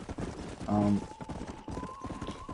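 Horse hooves clip-clopping in the Red Dead video game, a steady rhythmic patter at moderate loudness with a brief whinny-like burst early on, under game sounds.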